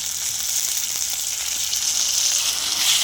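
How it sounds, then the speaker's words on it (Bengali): Spice paste with chilli, turmeric, pepper and cumin sizzling steadily in hot oil for a koi fish and cauliflower curry, a continuous close hiss without talk. "ভালো করে কষে নেবো আমি মশলা"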